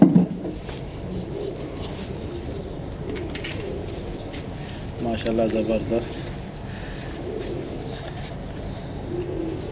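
Breeder pigeons coo in a loft, soft low warbling calls in short bursts, the clearest one in the middle, heard under someone talking throughout.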